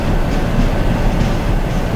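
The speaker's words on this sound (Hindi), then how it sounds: "अभी हम थोड़ा सा आगे चलते हैं और लोकोमोटिव को आगे जाके थोड़ा सा रोक देंगे" A locomotive in Trainz Simulator 12 rolls along during Indian Railways shunting duty, giving a loud, steady rumble of wheels on track with faint rhythmic clatter underneath and no voices.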